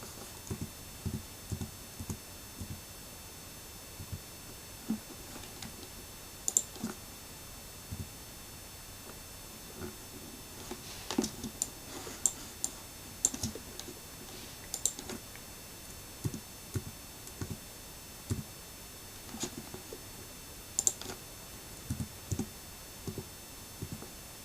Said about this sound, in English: I usually do all my tweaking for positioning using my keyboard keys rather than trying to do it with the mouse